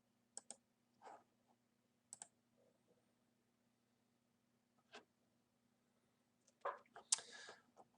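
A computer mouse clicks while someone works in graphing software, a handful of quiet, isolated clicks and taps scattered across a near-silent room with a faint hum.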